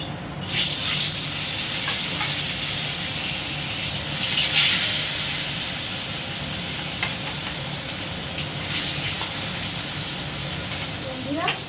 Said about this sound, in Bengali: এবার তেলটার মধ্যে আমি মাছগুলো এক এক করে দিয়ে দেবো